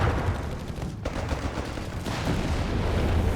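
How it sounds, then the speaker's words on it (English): Heavy fire from an Arctard and a Sturmgeschütz in the Company of Heroes 3 video game, a steady, dense roar of gunfire and blasts running the whole time. "Heavy fire there from the Arctard and the Sturmgeschütz"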